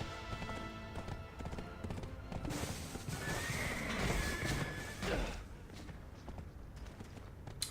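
A horse in the video game Black Desert gallops with rapid clip-clop hoofbeats and lets out a loud whinny midway, with background game noise and some voice underneath.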